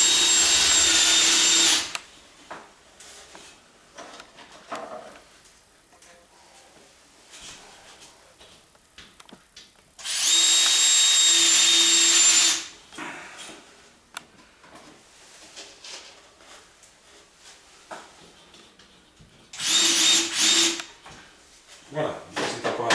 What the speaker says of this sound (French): Vous transpercez le rail à travers le placo et vous inclinez légèrement vos vis.